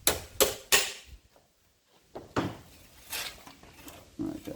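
Claw hammer striking sheet metal to flatten it while repairing a rusty floor on a 1972 GMC Actionline longbed: three sharp, close clanging blows in quick succession, a pause, then a few more lighter knocks amid workshop handling noise.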